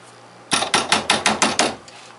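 A hammer drives 1.25 to 1.5 inch finishing nails to tack down spline roadbed for a model railroad, giving seven quick, evenly spaced, close, sharp blows with no talking.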